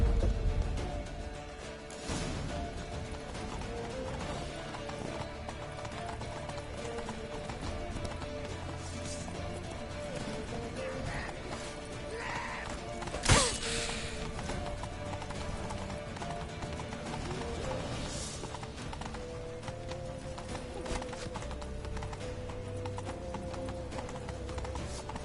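A horse gallops in the video game The Witcher 3, its hooves beating a fast, steady clip-clop rhythm throughout, with a brief sharp thud midway and game ambience underneath.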